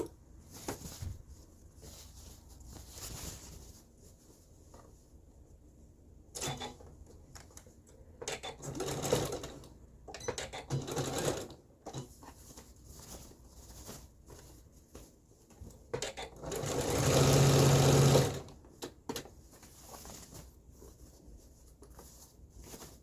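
A sewing machine stitches pleats on a pair of pants made from pattern M5239, running in short quiet bursts with pauses and one longer, louder run near the end.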